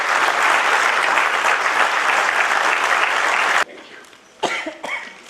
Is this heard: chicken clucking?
no